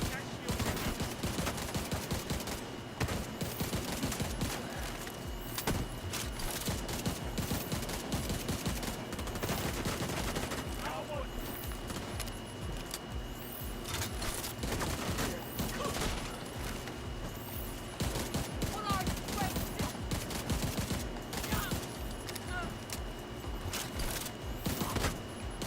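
Continuous battle rifle fire from The Division 2, a dense run of rapid, loud shots filling the whole stretch with only brief gaps between bursts.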